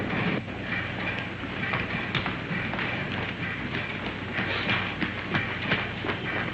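A passenger train runs on rails in a 1952 crime drama, making a steady, loud rolling rumble with faint rhythmic clicks and thumps throughout and no voices.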